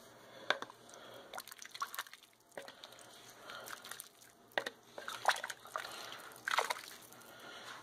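Italian beef being stirred in a slow cooker, with soft wet squishing and sloshing of meat and juices and scattered spoon clinks against the pot, close and fairly quiet.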